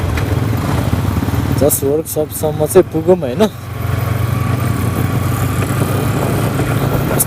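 A Yamaha MT15 motorcycle with a worn-out chain and sprocket, ridden slowly, gives off a steady, close engine drone that runs through the whole stretch while someone speaks briefly midway.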